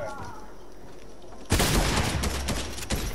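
Rapid bursts of gunfire in a Fortnite duo battle royale match crack out loudly and nearly continuously after a quieter opening stretch. Faint voices can be heard under the shooting.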